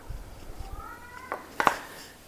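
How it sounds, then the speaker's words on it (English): A cat meows faintly in the background, a short rising call followed by a couple of soft clicks and thumps nearby. "Hear my kitty in the background."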